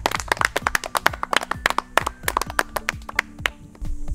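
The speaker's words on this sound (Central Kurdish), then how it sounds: "چەپڵەیەک بۆ هەرەمومان" A group of schoolchildren in a village classroom clapping together, a quick scattered run of sharp hand claps close by that tapers off toward the end, with no talk.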